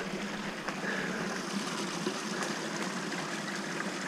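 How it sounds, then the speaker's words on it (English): Water trickles and rushes steadily in a small canyon creek that has surfaced again. The flow is a constant, close, hissing babble with no voices. "There's water dropping. Water's back above ground anyway."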